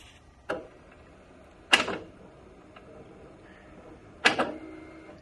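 A Logitech G923 True Force racing wheel for Xbox powering on and calibrating, giving three separate mechanical clunks spaced about a second or two apart, with faint whirring between them and no talking.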